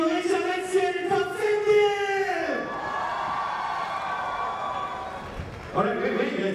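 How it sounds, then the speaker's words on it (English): A crowd at the 2017 SEA Games men's kumite karate finals in Kuala Lumpur breaks into loud applause and cheering right after an announcer's voice, and the noise fills the hall for several seconds. "please give all our winners a big round of applause"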